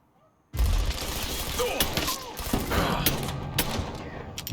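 In the video game Mafia 3, a burst of gunfire breaks out after a quiet start: loud, rapid shots and thumps, with brief cracks continuing throughout.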